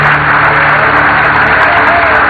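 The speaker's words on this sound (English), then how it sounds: "An extremely loud applause here in Mission Control." Loud, sustained applause fills Apollo 13 Mission Control in Houston as the crew comes down on main chutes, a thick, continuous roar of clapping with a low steady hum beneath it.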